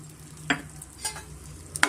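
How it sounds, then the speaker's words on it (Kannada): Black gram flour frying in ghee, a steady close bubbling sizzle broken by a few sharp scrapes of a spoon against the pan. "ಈ ಥರ ಬಬ್ಬಲ್ಸ್ ಥರ ಬರುತ್ತೆ ನಮಗೆ ತುಪ್ಪದಲ್ಲಿ ಆದಷ್ಟು ಫ್ರೈ ಮಾಡ್ಕೊಬೇಕಾಗತ್ತೆ"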